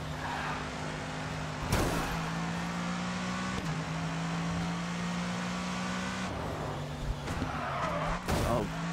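Race car engine droning steadily through a GRID 2 video game race, with several sharp tire skids and squeals breaking in across the run, close and fairly loud, with a little talk underneath.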